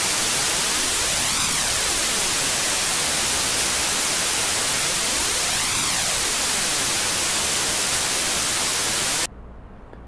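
Broadband noise passes through a modulation delay effect at a 0.23 Hz rate and 7.18 depth, producing a slow, sweeping comb-filter whoosh that rises and falls twice before cutting off abruptly, loud and unaccompanied.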